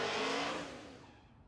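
A first-generation Chevrolet Camaro drag racing in the left lane at Tulsa Raceway Park roars off loudly, then fades quickly into the distance.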